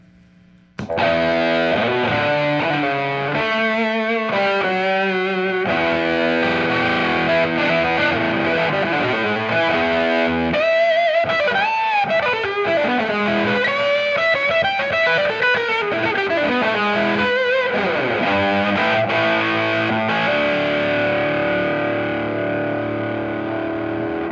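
An electric guitar plays through a tweed tube amp with fuzz and effects pedals, distorted, sustained chords and warbling bends filling the whole passage.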